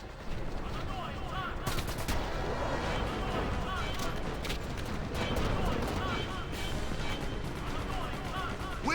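Explosions and rapid gunfire from a battle scene in Final Fantasy X HD Remaster, dense and continuous across the whole stretch with sharp bursts layered under game music and voices.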